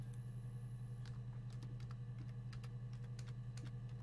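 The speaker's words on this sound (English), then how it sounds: "I love that typing sound." Keyboard typing in the video game Her Story: a quiet run of separate keystroke clicks at an uneven pace over a steady low hum, with no talk.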